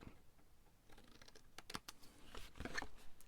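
A few soft, brief snips and scratchy crackles as a flap of material is cut off, quiet and close, with irregular gaps between the cuts.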